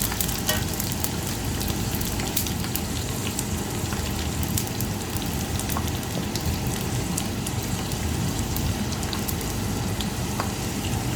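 Dried frogs and fish deep-frying in a pot of oil make a dense, continuous sizzle, loud and close, with rapid crackling like heavy rain that holds steady throughout.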